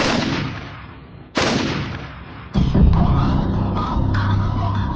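Gunshot sound effects in a Spanish true-crime report about a shooting: two or three sharp, loud close blasts, each trailing off into a reverberant tail, the last followed by rumbling echo, with no talk.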